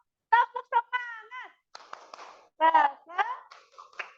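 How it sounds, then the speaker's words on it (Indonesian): A school class performs a 'tepuk semangat' ice-breaking chant in an Indonesian classroom, with rhythmic bursts of claps mixed with children's chanted voices in short groups and pauses, fairly close. "Kita tepuk semangat ya."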